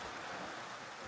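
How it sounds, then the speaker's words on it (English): Steady rain patters on a shed cover in a hidden North Idaho valley, a soft, even hiss with no speech. "because it's raining"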